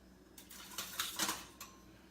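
Fork or wire whisk clinking against a bowl while beating eggs and milk for pumpkin french toast, a few quick sharp metallic taps in an irregular burst, fairly faint and close.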